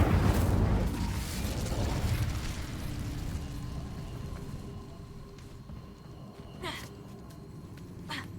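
An Incendio fire spell in Hogwarts Legacy bursts with a loud, rumbling whoosh that fades over several seconds into quieter crackles and a couple of sharp magical pops.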